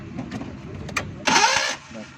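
A Suzuki car engine cranks on its starter in a single short burst lasting about half a second, close and fairly loud, with someone speaking around it.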